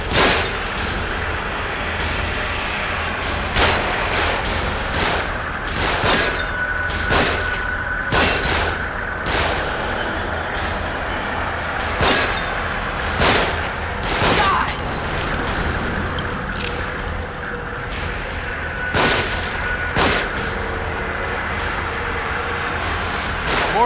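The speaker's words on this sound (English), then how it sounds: "Cover. They're shooting from above." Enemy gunfire raining down from above in the horror video game The Evil Within, dense repeated shots and booming impacts cracking over a constant loud din, with brief voices heard among the barrage.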